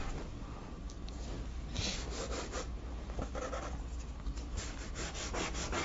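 Fabric rubbed across a charcoal drawing to smudge it, a steady close scratchy rubbing with bursts of stronger strokes and no talking.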